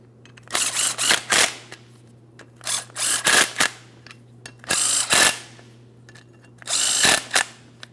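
Power wrench tightening brake caliper mounting bolts on a Ford Transit 250 van, firing in repeated short buzzing bursts with brief pauses between them, loud and close.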